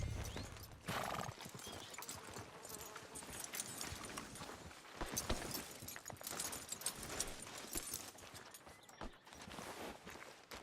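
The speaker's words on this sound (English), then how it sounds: "Are you gonna mount that new horse of yours or not?" Horse hooves clip-clopping at a walking pace with occasional neighing, close by, amid soft ambient outdoor noise, in Red Dead Redemption 2.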